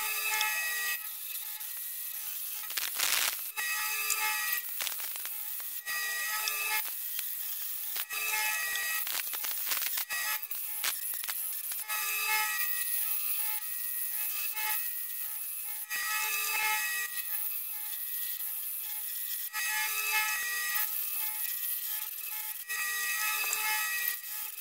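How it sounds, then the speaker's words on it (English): A hole saw grinds through a steel tractor grader blade plate, giving a harsh, high, scraping whine broken by short rhythmic pauses and chattering catches, close and sustained throughout. "I flipped the plate over and started drilling from the other side"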